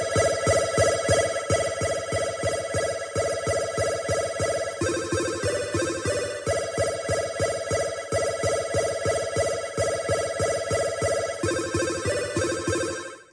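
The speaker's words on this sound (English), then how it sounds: "We're going to go for, let's see, Atari Arpeggio." Atari Arpeggio pattern triggered from a Yamaha PSR-SX920 keyboard multipad: a fast, bright, chiptune-style arpeggio repeating in a steady rhythm, loud and alone, ending abruptly.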